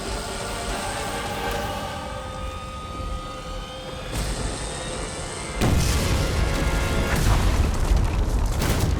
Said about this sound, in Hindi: ये भैरानी कैसे उड़ गई आतिशबाजी बन के?